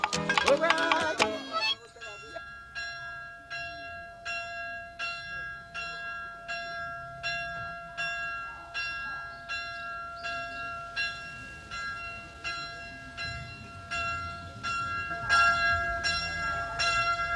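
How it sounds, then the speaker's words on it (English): Church bells on a small island ring in a steady, evenly spaced peal of repeated strokes with long sustained tones, moderately distant, following a brief burst of other sound at the start. "Today, when the church bells ring, it is for an amazing variety of denominations"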